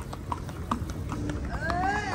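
Hooves clip-clop in soft, irregular taps during a group horseback ride held at an easy gait. The taps sit under crowd and outdoor noise with a faint voice, and a brief whinny-like cry rises near the end.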